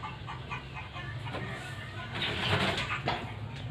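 Bangkok and Pakhoy chickens clucking and murmuring close by, a steady flock chatter with a few louder calls rising midway, no talking.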